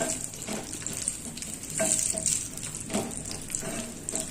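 Dry fruits frying in ghee in a pan for sweet chakkera pongal, a close, soft sizzle broken by intermittent stirring clinks and scrapes; no talk.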